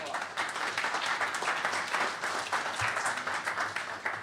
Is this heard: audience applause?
yes